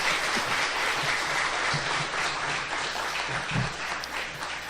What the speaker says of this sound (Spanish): Y le damos un caluroso aplauso a nuestro homenajeado